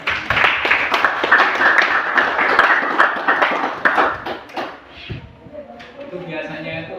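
Hand clapping in a classroom guidance session, a dense run of sharp claps for about five seconds under a murmur of voices, then fading as a person speaks.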